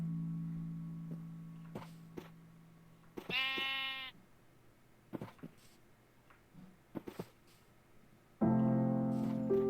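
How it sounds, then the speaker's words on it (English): Minecraft sheep bleating in the video game: a clear bleat midway, another at the end, with scattered in-game clicks and steps between them, no talk. "Come on, sheep."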